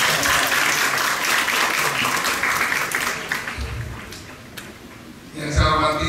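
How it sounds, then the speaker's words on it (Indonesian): An audience at a school event applauds SMA 5, a broad wash of clapping that gradually thins and fades, then a brief burst of crowd noise or cheering near the end. "Tepuk tangan buat SMA 5"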